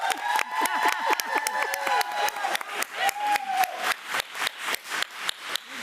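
Audience clapping at a school board meeting, a steady run of dense handclaps filling the room for several seconds, with scattered voices mixed in.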